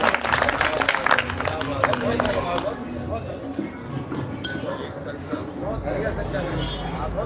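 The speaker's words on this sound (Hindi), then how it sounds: "जोरदार तालियां" Audience applause at a Hindi kavi sammelan poetry recital in Faridabad, a dense burst of clapping from the crowd that is loudest at the start and then thins, with murmuring voices underneath.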